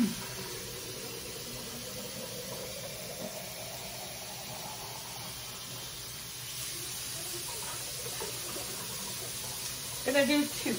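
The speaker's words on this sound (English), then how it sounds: "I'm gonna add a bit more water to this, probably 2 or 3 quarts." Water runs steadily into a cooking pot with a soft, continuous hissing splash for several seconds, ending in a brief louder clatter of handling.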